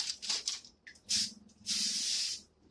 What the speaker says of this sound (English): So now I'm going to spray a little my Pam grilling spray.